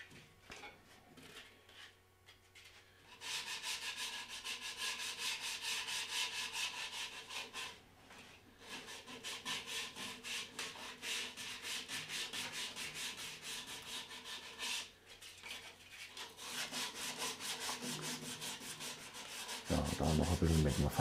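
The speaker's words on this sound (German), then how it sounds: "Feinere Schleifpapier" Rhythmic rubbing strokes of fine sandpaper on a wooden bowl by hand, steady back-and-forth scraping with short pauses, close and fairly loud.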